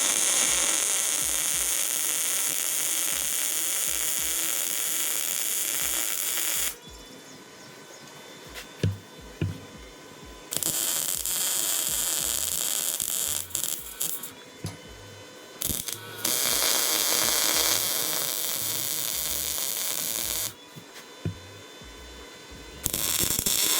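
Welding of small half beads on steel race car door bars for a Subaru GC, a loud crackling buzz that runs in several long stretches with brief pauses in between.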